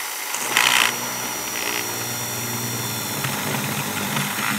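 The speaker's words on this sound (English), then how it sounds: "There is a chance I could snap my drill bit here." Steady high-pitched whine of a small power drill with a very small bit drilling into a metal coin, running continuously, with a brief louder burst near the start, close and fairly loud.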